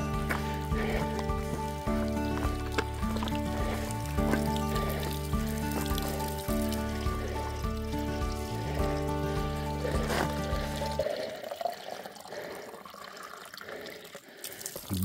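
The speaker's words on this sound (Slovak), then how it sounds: "Á, studnička. Idem si nabrať vodu, Peťo, počkaj." Water runs steadily from a small spring during an e-bike ride, a continuous trickle under loud tonal music that cuts off near the end, leaving the splashing flow and some handling noise.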